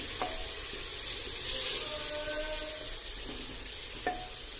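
Roasted ground spice powder of coriander, pepper, cumin, fennel, cinnamon, clove and cardamom sautéing in oil for mutton curry, giving a soft, fairly quiet continuous sizzle with a few faint tonal whines in the background.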